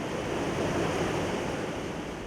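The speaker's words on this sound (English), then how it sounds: "they hear the sound and they follow the sound, and they found this waterfall you are seeing now" A waterfall in Nyungwe forest, Rwanda, roars in a steady, dense rush of falling water that stays loud and unbroken throughout, with no voices.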